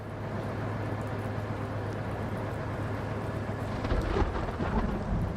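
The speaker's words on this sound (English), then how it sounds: "How loud does the lightning need to be? Or, not lightning, the thunder strike." A thunder strike in the video game Blacksad: Under the Skin rolls as a steady, heavy rumble with rain-like hiss. It swells louder with crackling near the end, with no talk over it.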